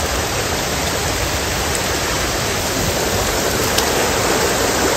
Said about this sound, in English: Lots of waterfall, lots of creek.